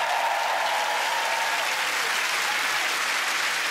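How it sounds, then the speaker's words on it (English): A studio audience at a comedy panel show claps in a loud, dense, unbroken burst, sustained evenly from start to finish. "Give him a round of applause, everybody."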